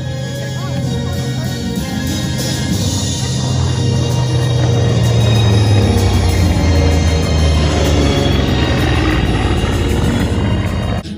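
Grumman F6F Hellcat fighter, a 2,000 horsepower piston-engine warbird, flying at an airshow, a loud propeller drone swelling as it nears and passes, then fading slightly, with a commentator's voice faintly underneath.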